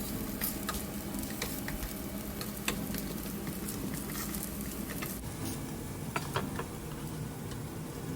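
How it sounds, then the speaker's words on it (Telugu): Poha and potato patties shallow frying in oil until brown and crisp, a steady close sizzle with scattered crackles and pops and a few light scraping taps, no talking. "మనము అందుకే బ్రౌన్ కలర్ వచ్చే వరకు మనము షాలో ఫ్రై చేసుకుంటే క్రిస్పీగా చాలా చాలా బాగుంటాయి"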